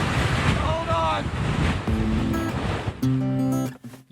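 Strong hurricane wind gusts buffet the microphone over loud, continuous ocean surf, with a few brief whistling tones cutting through the roar.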